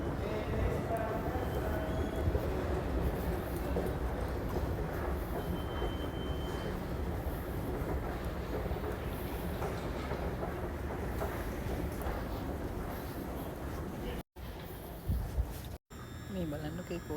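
Passenger train coaches roll past at a station, a loud steady rumble of wheels on rail with faint squeals, continuing throughout with brief drops near the end.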